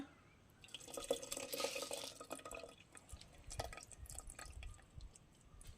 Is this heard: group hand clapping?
no